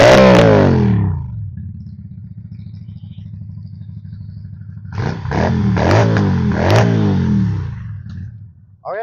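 A 2022 WMoto V16 250cc cruiser motorcycle engine, stock except for an aftermarket exhaust, revs sharply, settles into a steady low idle, then revs up again several times, loud and close.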